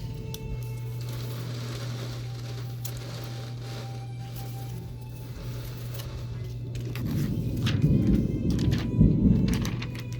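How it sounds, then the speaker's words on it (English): A thunderstorm rumbles outside, with a steady low drone and a broad wash of rain; near the end the rumbling swells into louder, rolling thunder. "enjoy the sounds of the storm."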